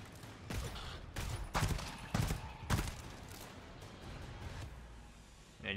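Gunfire bursts in the dark sci-fi horror shooter GTFO: four or five sharp, loud shots spaced about half a second apart, then a quieter stretch of rumbling ambience.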